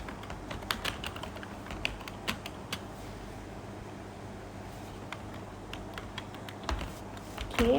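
Steady, soft computer keyboard typing while entering MATLAB syntax, a run of light close taps over a faint background hiss, with no voices.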